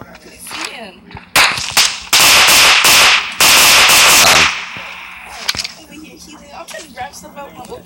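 Gunfire in the battle royale video game PUBG: a loud burst of sharp, rapid shots crackles for a few seconds, then scattered single cracks follow under quieter background sound.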